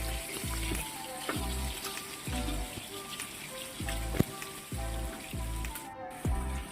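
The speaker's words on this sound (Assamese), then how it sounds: "ফাৰ্ষ্টতে মই মাছখিনি ফ্ৰাই কৰি ল'ম।" Fish fries in a pan with a steady, close sizzle, punctuated by regular low knocking thumps every half second or so, and no speech.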